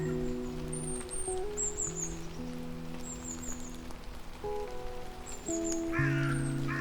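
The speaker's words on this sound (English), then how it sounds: "The sound of droplets tapping in the trees, the earthy smell in the air, and the way everything feels refreshed." Rain droplets tap steadily on the trees around a cabin homestead, a soft continuous patter under sustained tones, with faint crow caws now and then.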